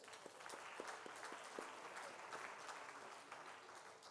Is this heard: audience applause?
yes